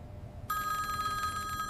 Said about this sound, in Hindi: उसने तुरंत फोन उठाया और बेंगलोर के एक होटल के कमरे में घंटी बजाई।